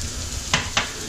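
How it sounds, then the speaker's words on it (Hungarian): Garlic goes into a hot pan of tarhonya with meat, bringing a steady frying sizzle and two brief sharp bursts of hissing as it lands, with no talk. "ugye a fokhagyma most kerül bele"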